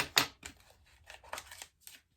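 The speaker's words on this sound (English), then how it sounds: "I'm gonna have to use makeup scissors." Makeup scissors snip at packaging while unboxing makeup, a few sharp close cuts followed by lighter crinkling and rustling, faint overall.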